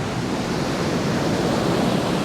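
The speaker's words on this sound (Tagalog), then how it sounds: "Grabe hampas ng dagat doon, oh." Loud, continuous roar of surf crashing on a remote beach in General Nakar, Quezon, Philippines, a dense wash of broadband noise with no pauses or voices.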